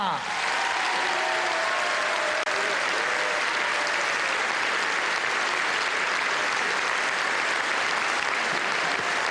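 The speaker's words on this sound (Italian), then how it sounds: "voglio sentire da voi un grande applauso per tutto il settore giovanile del Mantova" Large gala audience celebrating the Mantova football club's centenary gives sustained, loud applause for the club's youth sector, an even roar of clapping with a faint voice audible at the start.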